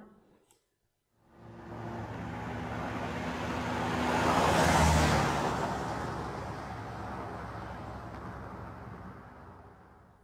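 A taxi passes by in a traffic sound effect for a vehicle guessing game, a broad whooshing road noise that swells to a peak mid-way and fades back out, heard alone.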